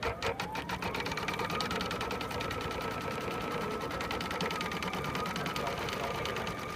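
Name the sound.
sewing machine tacking down applique fabric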